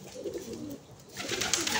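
Iraqi pigeons coo softly at a middle distance, a short low murmur over faint background noise.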